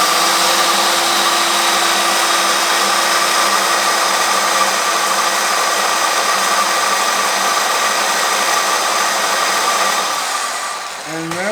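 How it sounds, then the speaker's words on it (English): A drill spins a cutter against an engine valve seat during a classic car engine rebuild, producing a loud, steady whirring whine with a gritty grinding edge that runs continuously for about ten seconds, then winds down. "I usually spin them off that way, and then I'll reverse the drill and go the other way for a couple of turns."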